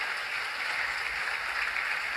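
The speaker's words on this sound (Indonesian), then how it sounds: "Tepuk tangan boleh puji Tuhan." A church congregation's applause forms a steady, even wash of many hands clapping together, fairly soft and distant, with no voices standing out.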